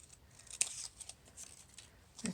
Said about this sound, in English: I snip off a bit.